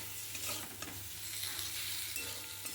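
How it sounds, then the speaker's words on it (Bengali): Potatoes are sautéed with everyday spices in a home pan, and a soft, continuous sizzle runs throughout with occasional spoon scrapes, quiet and close, with no voices. "প্রতিদিন যা মশলা দিই সেই মশলাগুলো দিয়েই আলুটা কষিয়ে নিচ্ছি"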